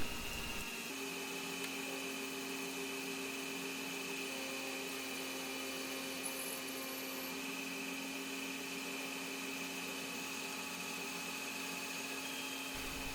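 A CNC lathe turning parts from scrap brass on a second operation, a steady mechanical hum with a constant high whine running throughout, no talking.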